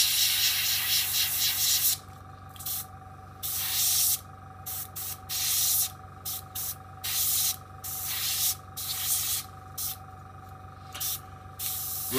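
A Scotch-Brite pad breaks up a spray of Vallejo chipping medium paint on a scale model, giving short hissing bursts in an uneven stop-start rhythm with brief quiet gaps between them.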